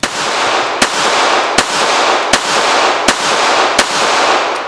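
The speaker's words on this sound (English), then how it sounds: "I'm going to shoot it with it on its side." Five sharp gunshots from a Remington RM380 semi-automatic .380 pocket pistol, fired at an even pace of roughly one every three-quarters of a second over a loud, steady outdoor roar.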